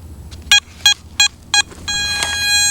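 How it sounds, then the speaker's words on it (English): Four short electronic beeps sound at an even pace, close and clear, as a Garrett ATX metal detector with an 8-inch mono coil starts up, followed by a higher sustained electronic tone with a brief chirp. "Four beeps"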